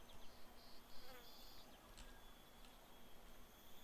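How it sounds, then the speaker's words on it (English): Flies buzz around a farmyard in the video game Heaven's Vault, a faint, wavering insect drone with short pulsing buzzes over quiet ambient background hiss. "I can hear flies buzzing around"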